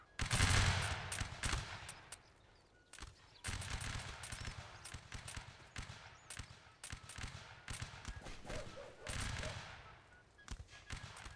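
Napoleonic Wars line battle with repeated musket volleys from ranks of soldiers, loud ragged bursts of gunfire recurring every few seconds, some fading into scattered shots amid crowd noise.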